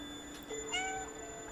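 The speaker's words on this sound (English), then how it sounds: "It's Jay's cat" A cat meows once in the video game Stray, a short, clear, fairly close cry over a quiet steady game ambience.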